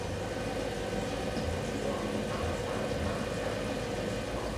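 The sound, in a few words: BMW engine running with revs for DCT gearbox fluid level check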